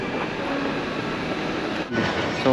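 A Taipei MRT metro train in an underground station: a loud steady rumble of rolling wheels and carriages close by, with a brief dip and a faint tonal squeal near the end.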